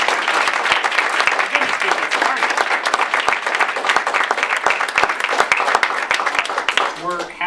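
An audience at a press event marking the end of health insurer abuses applauds in a loud, dense, sustained round of clapping, with voices talking over it near the end.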